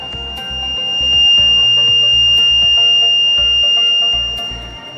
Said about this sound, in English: when the water is reaching at its full height, you can see the buzzer will turn on along with the red light